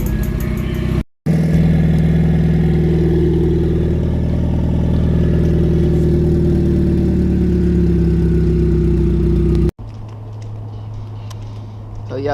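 A cold Chevrolet Cruze engine runs steadily at a loud, close, droning idle with a brief cut near the start, then shifts to a lower, quieter hum near the end.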